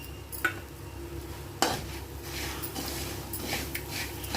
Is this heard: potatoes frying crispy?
yes